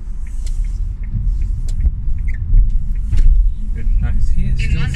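A car drives along a road near Barking with a steady low engine and road rumble throughout, plus a few small clicks and rattles inside the cabin.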